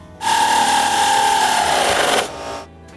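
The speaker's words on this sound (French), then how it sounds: "je pose les tire-fonds qui vont retenir le rack en place." A power driver spins a lag screw into wood to hold a rack in place, giving a close, loud, steady whine that holds for about two seconds, drops in pitch as the screw seats, then stops.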